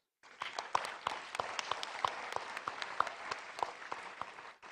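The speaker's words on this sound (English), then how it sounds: "So our local organizers deserve a big round of applause." Audience at a Buddhist-Christian colloquium gives a round of applause for the local organizers, a brief burst of clapping with distinct individual claps standing out, rising quickly and cutting off cleanly.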